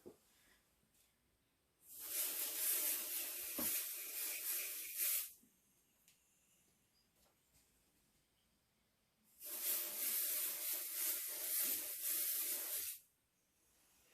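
Pixie Spray light tack adhesive sprayed from an aerosol can over a garbage can for stencilling, two sustained close hissing bursts of about three seconds each separated by a quiet pause.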